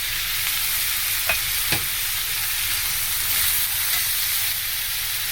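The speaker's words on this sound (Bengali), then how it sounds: "পটলের দানাগুলো বের করেছি, এটা দিয়ে দিচ্ছি একটা সেকেন্ড। সব ভালো করে ভেজে নেব।" Pointed gourd seeds fry in a hot pan, a loud, even sizzle steady throughout with a couple of quick knocks from a stirring spoon early on.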